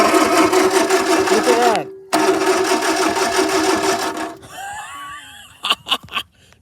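1950s Ford tow motor engine being cranked by the starter in long, rapid, rhythmic chugging bursts with a brief pause between them, then winding down into squeaks and clunks, with a few spoken words near the end.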